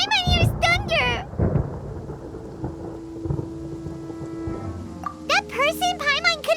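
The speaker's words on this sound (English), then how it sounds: "Paimon hears thunder!" Rolling thunder in the video game Genshin Impact, a low, drawn-out rumble in the middle of the clip, framed by character voices before and after.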